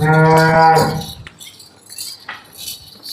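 A single loud, low cow moo lasting about a second, followed by faint clinks and rustling nearby, at a cattle sale.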